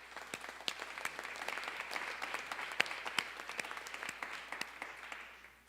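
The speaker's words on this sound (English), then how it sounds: "let's ask him to rise in another round of applause for Howard Teach, please." A banquet audience breaks into a round of applause, dense clapping with sharp individual claps standing out, holding steady before tapering off at the end.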